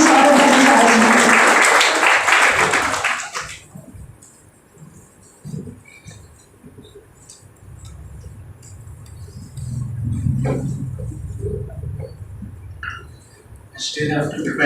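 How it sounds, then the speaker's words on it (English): Audience at an Engineer's Day college event giving a round of applause that lasts a few seconds and then fades, leaving quiet room sound, scattered faint noises and low murmuring, with clapping briefly returning near the end. "A big round of applause for Mr. Saurav Bhattacharjee"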